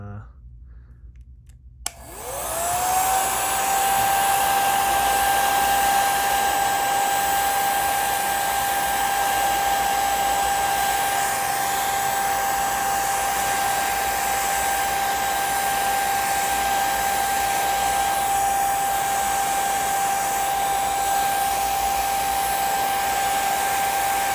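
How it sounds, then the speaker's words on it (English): A hair dryer clicks on and spins up to a loud, steady whine and rush of air that continues unbroken, close to the listener, heating a vintage sports card to soften wax. "So we're gonna hair dry it a little bit"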